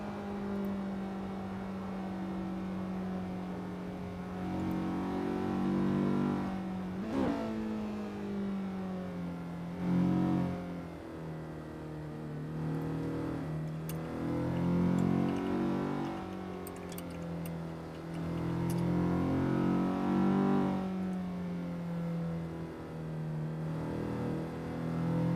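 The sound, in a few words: cars racing in a touge racing video game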